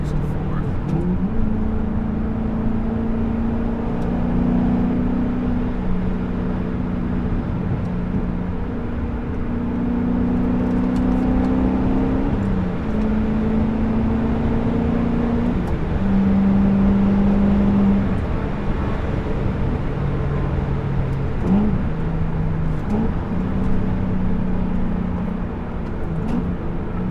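A manual car downshifts from sixth to fourth gear through a series of turns: a loud, close engine drone that holds steady, then steps and slides in pitch with brief rev changes between gears.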